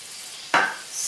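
A spoon scrapes once through rice with a stock cube in a pot, a single brief close stir over a faint background hiss.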